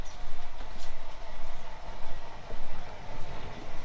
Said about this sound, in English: we're going to check out this train setup that they have up front here